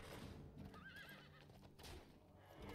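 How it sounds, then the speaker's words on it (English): Horse minion neighing in the Hearthstone card game: a clear whinny with hoof clip-clops, set against busy game sound effects, quiet overall. "Horse. I really like the horse."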